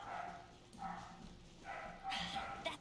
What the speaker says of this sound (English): they decided that they want to bark at the neighbor's cat right now